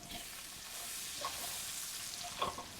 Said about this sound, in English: I'm going to add in my garlic, and I'm going to saute that for about 30 seconds